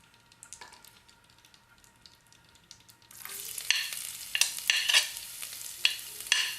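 A quiet stretch, then a sudden burst of crackling sizzle as ginger and garlic hit hot oil, popping and spitting steadily up close.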